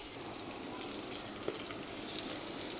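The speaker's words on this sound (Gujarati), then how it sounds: "હવે આ સરસ બ્રાઉન રંગની થાય તો 5 મિનિટ આપણે એને સાતળવા દઈશું" Onions sautéing in a covered pan, an even soft frying sizzle throughout with a couple of faint pops, steady and fairly quiet.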